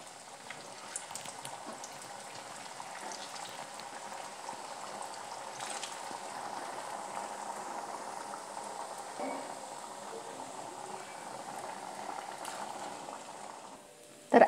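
Crispy biscuits made with fresh wet coconut fry in oil, a soft, steady bubbling hiss that carries on evenly throughout, with no talk.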